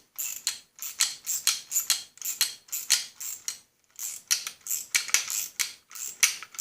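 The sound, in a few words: tightening a bolt with a 7/16 wrench and socket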